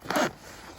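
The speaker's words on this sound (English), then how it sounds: "Zippers seem pretty heavy duty on this." One quick, close pull of a heavy-duty backpack zipper, soft and brief, fading into quiet room noise.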